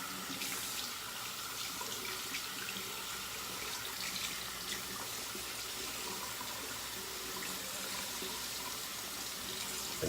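Tap water runs steadily into a sink while a razor loaded with shaving lather is rinsed under it, a continuous soft splashing hiss at low level with no talking.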